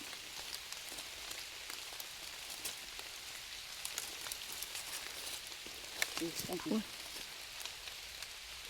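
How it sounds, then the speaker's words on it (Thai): Light rain patters steadily in a forest during a trip to gather termite mushrooms, a soft continuous hiss with scattered drops, briefly joined by a faint voice. "ฝนกระซิลิ่นลิ่นจ้ะพี่น้อง"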